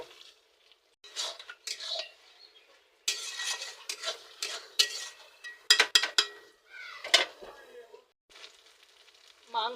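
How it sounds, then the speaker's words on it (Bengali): Chicken and potatoes being sautéed in a pan, with intermittent clattering scrapes and knocks of a metal spoon against the pan, separated by quiet gaps, plus a faint sizzle. "এবার আমি মাংসর মধ্যে আলুটা দিয়ে আবার 5 মিনিট কষিয়ে নেব।"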